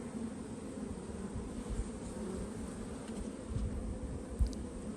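Honey bees buzz steadily over a brood frame from a package colony, a dense continuous hum up close with a few brief louder bumps near the end.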